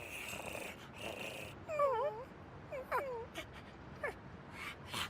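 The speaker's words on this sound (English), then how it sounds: "Look at the little Akita puppies." Akita puppies whimper and yip in short, high, wavering cries, several close calls in quick succession over a quiet background.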